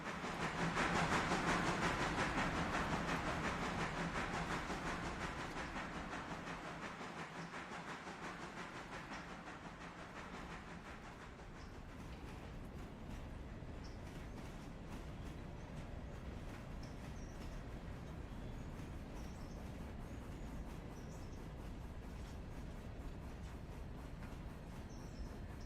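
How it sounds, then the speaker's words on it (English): A train in the game Railroader slowing with only the locomotive brake applied: a loud hiss of air release fading into a steady rolling rumble with faint clicking of wheels, fairly quiet overall. "I'm going to try and stop them with just a loco brake"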